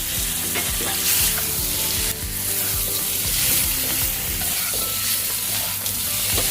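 An egg fries in hot spiced oil with coriander powder for chana dal, giving a loud, steady sizzle and crackle with occasional stirring scrapes throughout.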